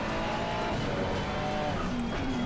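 A McLaren race car in a racing game roars at steady high revs while its tires squeal and squirm, the strained engine note loud and constant with pitch shifts through the corner.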